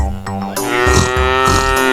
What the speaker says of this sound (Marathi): सावकारानं नवीन म्हैस आणली. काळी कुरकुरीत म्हैस आणली.